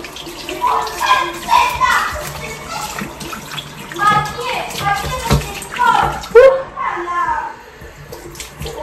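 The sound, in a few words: child playing in bath water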